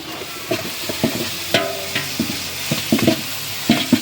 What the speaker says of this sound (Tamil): மாஸ்டர் இப்போ தான் நல்லா கிண்டிகிட்டு இருக்காங்க